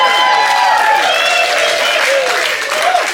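Applause and cheering from a comedy show audience at The Center for the Arts in Grass Valley, California, steady and loud throughout, with voices shouting and whooping over the clapping.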